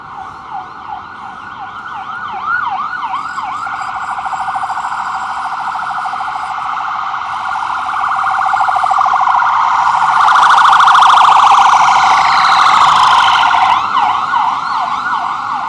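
A Hatzola ambulance siren wails close by on a Manhattan street, loud rising-and-falling sweeps that shift into a fast yelp, then swell and fade as the vehicle passes, with traffic noise underneath.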